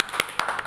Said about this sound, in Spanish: Aplauso también.